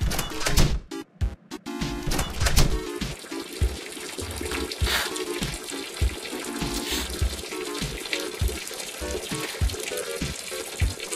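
An animated cartoon character urinating, rendered as a water stream sound effect: a gushing, splashing flow with sharp pauses early, then a steady pour that runs on.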